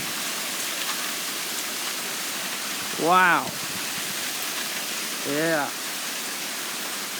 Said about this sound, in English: Look how heavy rain is coming down.